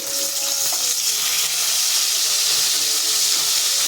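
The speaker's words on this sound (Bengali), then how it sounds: "মাছগুলি কড়া কড়া ভাজতে হবে যেহেতু শোল মাছ।" Snakehead fish fries loudly in hot oil, a dense, continuous hissing sizzle with a few faint crackles throughout.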